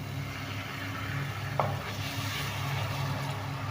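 Tomato puree hits hot fried spices and turmeric in a pan, giving a steady, moderate sizzle and crackle that holds evenly throughout, with one brief clink partway through.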